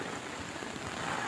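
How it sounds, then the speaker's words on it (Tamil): Heavy rain pours steadily on a riverbank with freshly cut grass, a dense continuous hiss that stays fairly even from start to end, with no voices. "நல்ல சரியான மழை"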